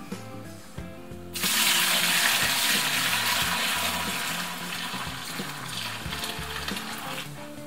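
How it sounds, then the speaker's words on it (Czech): Wine poured onto 300 grams of sugar for homemade pineapple wine, a sudden loud gushing splash starting after a brief quiet moment, then continuing steadily close up with no talking. "Naliju tam něco málo vína."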